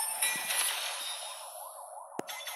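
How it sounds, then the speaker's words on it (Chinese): An ambulance siren wails nearby, its rising and falling tone sweeping across a short stretch, with a brief knock near the end. "救护车在旁边呢"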